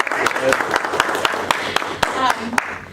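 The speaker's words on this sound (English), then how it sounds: "you got to give him a round of applause in the back" A small audience at a Madison startup presentation event gives a round of applause, with sharp, rhythmic claps at a steady beat, close and fairly loud, while voices carry on underneath.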